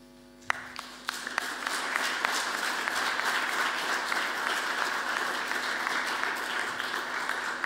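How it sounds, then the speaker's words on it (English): A conference audience at DrupalCon Vienna 2017 breaks into applause, a dense, loud crowd of clapping that starts abruptly and keeps going steadily. "You're not supposed to clap."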